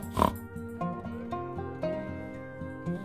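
A person imitates a pig with nasal grunting oinks, several short snorts repeated over a few seconds against quiet background.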